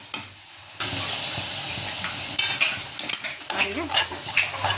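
Black nightshade greens stir-fried with salt in a pan: a metal spoon scrapes and stirs in uneven strokes over a continuous sizzle, close and fairly loud after a quiet start.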